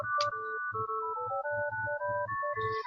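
An office phone rings out as a melodic electronic ringtone, a loud, close stepped sequence of tones repeating for a few seconds with no talking over it.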